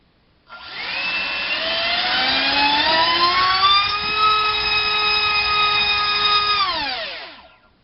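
A dys 2205 2750kv brushless motor on 4S spins a HobbyKing 5x4 three-blade prop, spooling up to a loud, piercing whine that rises in pitch, holds steady for several seconds, then winds down and stops.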